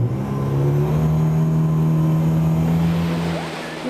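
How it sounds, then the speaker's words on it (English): A jet car engine revs at Gaylord National, a loud, continuous low hum with a wash of rushing noise, steady throughout and easing slightly at the end. "including these awesome jet cars"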